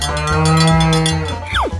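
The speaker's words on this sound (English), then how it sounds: "Cow." A cow moos in one long, loud, drawn-out call that ends with a falling tone, heard over light background music in a children's animal game.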